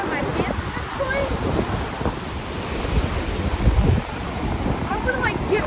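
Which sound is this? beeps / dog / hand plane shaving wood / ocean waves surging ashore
ocean waves surging ashore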